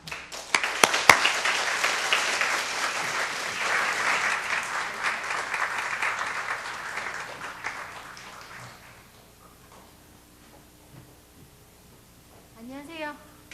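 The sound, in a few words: audience applause welcoming the speaker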